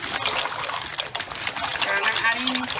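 Dry pasta tipped into a pot of boiling salted water on a kitchen stove, giving a steady watery bubbling and rushing wash with faint clatter throughout, fairly close.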